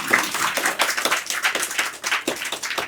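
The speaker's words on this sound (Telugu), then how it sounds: "గట్టిగా కొట్టాలి, చప్పట్లు రావట్లే" A crowd claps hands together at a Naga Devatha consecration ceremony, a dense, steady patter of many overlapping claps with no voices on top.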